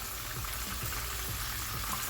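Fish frying in a pan over a fire gives off a steady, soft, even sizzle with faint bubbling. It runs unbroken and sounds fairly quiet and close.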